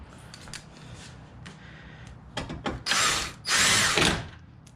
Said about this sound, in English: Now we're going to put the bolts back in.